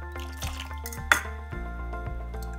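A dehumidifier drains collected water into a bucket, giving a series of close, resonant plinking drips over a low steady hum.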